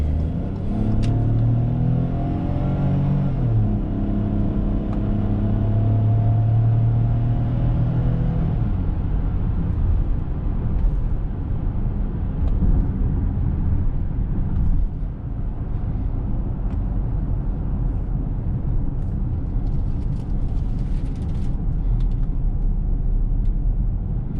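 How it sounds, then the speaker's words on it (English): A 2021 Ford Bronco cruising at highway speed, its steady broadband road and engine rumble filling the cabin continuously, with a brief rising engine note early on before settling into constant tire and wind noise. "Let's go ahead and take this Bronco on the highway and see how it does."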